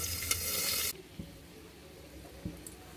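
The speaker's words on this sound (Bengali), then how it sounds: "তো এটাকে ডিম জলে ভাজতে দিয়ে আমি আপনাদের সাথে ভাজা হলে শেয়ার করে দেবো।" Hilsa fish roe fries in a pan with a loud, steady sizzle that suddenly drops to a quieter simmer, followed by a few faint knocks.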